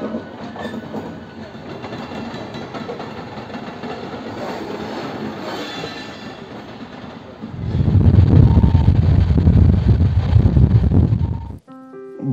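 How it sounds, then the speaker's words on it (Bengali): The 12337 Howrah to Bolpur Shantiniketan Express pulls out of Howrah station, a faint rolling rattle at first, then a loud, close rumble of wheels and carriages in the last few seconds before it cuts off abruptly. "আর আমাদের ট্রেন হাওড়া স্টেশন থেকে রাইট টাইমে ছেড়ে দিল।"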